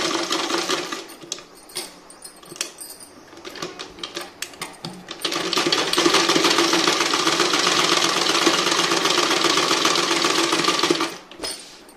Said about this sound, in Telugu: మీకు వీడియో చేస్తున్నాను కాబట్టి కొంచెం నాకు నెమ్మదిగా మీకు చూపించడానికి నెమ్మదిగా కుడుతున్నాను